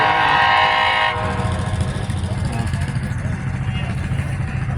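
A train rolls through beside a farm consignment sale, a loud horn blast at first giving way to heavy rumbling rail noise, close by, with people talking over it.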